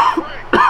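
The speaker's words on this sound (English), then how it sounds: "I don't like to cough when I do these things." A person gives one short, close cough during video game commentary. A quieter catch comes first, then a sharper burst near the end.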